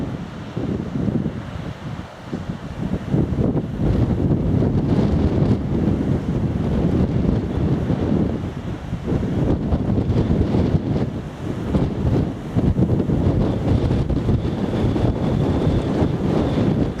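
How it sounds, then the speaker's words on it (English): Strong gusting wind along a coastal path buffets the microphone in heavy, uneven rumbling bursts for the whole stretch, with a faint wash of sea underneath and no talking. "Pretty breezy at the moment, so I'm fighting a wind here."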